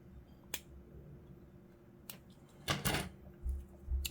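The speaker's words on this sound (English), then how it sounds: "get my scalpel just to trim this" A steel scalpel trims mould lines from a model figure, Supreme Grand Master Azrael, in a few sparse, sharp clicks and scrapes, quiet and close, with one longer scratch near the middle and no talk.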